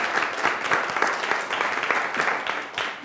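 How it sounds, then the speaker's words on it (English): A room full of audience members at a professional women's community event applauds steadily, dense clapping sustained throughout at even loudness. "Give yourself a round of applause for being here today."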